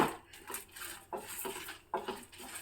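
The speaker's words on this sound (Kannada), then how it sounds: "ನಾನಿಲ್ಲಿ ಒಂದು ಡ್ರಾಪ್ ಅಷ್ಟು ಎಣ್ಣೆ ಹಾಕಿಬಿಟ್ಟು ಹುರ್ಕೋತಾ ಇದ್ದೀನಿ" Lentils roasting in a pan with a drop of oil for a traditional Dwadashi recipe, with soft scraping and stirring, light clinks of a utensil against the pan at intervals, close and fairly quiet.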